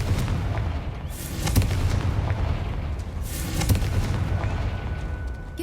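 A Confringo explosion spell in Hogwarts Legacy erupts with heavy, rumbling booms: two strong blasts about two seconds apart, each with a rolling low-end tail, over continuous dense game noise.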